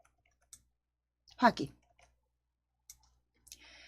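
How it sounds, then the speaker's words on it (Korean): Computer mouse clicks during spreadsheet work, a few faint, sharp isolated clicks spaced apart, with a brief voice speaking in between. "오른쪽 버튼 클릭"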